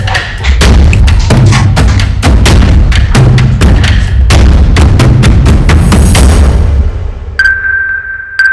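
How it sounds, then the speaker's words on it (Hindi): A rapid series of loud gunshots cracks out in close succession, sharp booming bursts back to back, followed by a sustained high electronic tone. "पुलिस वाले पे गोली चला दी।"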